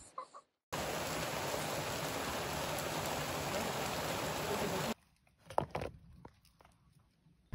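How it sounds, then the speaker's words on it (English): Steady rain pours down on an abandoned farm in rural Spain, a dense hiss that holds loud for about four seconds, then gives way to quieter scattered patter and drips. "It's been raining for like 5 minutes."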